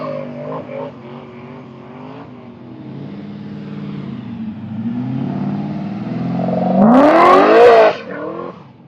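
A hot rod pulling a trailer at a drag week route stop doing a rolling burnout: the engine revs and climbs steadily, then screams at high revs with tire squeal near the end, loud and close.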